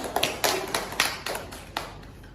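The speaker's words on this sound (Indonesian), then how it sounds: "Tepuk tangan untuk Nur." A small classroom group claps in a few sparse, separate bursts, with sharp individual hand claps standing out close by.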